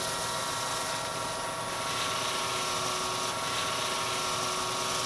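A piece of wood is pressed against a wooden bowl spinning on a lathe, producing a steady, loud whirring drone with a rough friction hiss that holds unbroken throughout.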